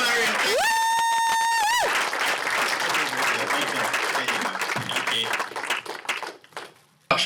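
Conference audience applauds a speaker at a business event, dense clapping and some cheering throughout, with a sustained musical tone at the start and the clapping thinning toward the end.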